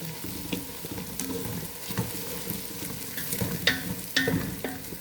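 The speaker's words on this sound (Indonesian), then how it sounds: "bawang putihnya digoreng-goreng" Steady sizzling of garlic frying in a pan, with repeated scraping and clinking of a utensil stirring throughout.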